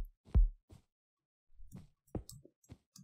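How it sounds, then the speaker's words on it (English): A Minecraft heartbeat sound effect thumps in low, muffled beats, a strong pulse followed by a softer one, then after a pause a second, lighter double thump. "Any faster and it's going to be not sound like a heartbeat,"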